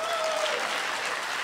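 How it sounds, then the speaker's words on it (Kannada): A stand-up comedy audience breaks into a short, dense burst of applause, loud and continuous throughout. "ಕೊಡಿರಿ ಜೋರಾಗಿ ಚಪ್ಪಾಳೆ"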